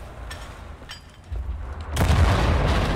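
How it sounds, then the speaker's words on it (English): Cannon fire in the video game Wolfenstein: The New Order, distant booms from two cliffside cannons, followed by a heavy, loud blast that lingers as rumbling noise. "those cannons are blasting us out of the sky"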